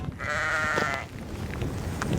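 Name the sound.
sheep near a remote football pitch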